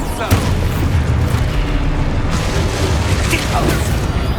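A spell blast from Expulso in Hogwarts Legacy sounds as a loud, dense booming burst with rumbling low end, followed by continuous roiling explosive noise and a couple of fainter pops.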